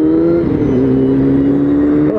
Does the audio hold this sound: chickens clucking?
no